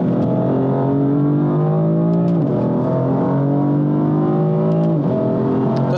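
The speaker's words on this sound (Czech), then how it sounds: "Se mi strašně líbí to přeřazení, protože to tomu dává úplně takovou skvělou energii prostě tomu autu." Mercedes C63 engine accelerating hard, heard close and loud: a rising engine tone that drops sharply at each gear shift, with two shifts before climbing again, steady and continuous with no voices.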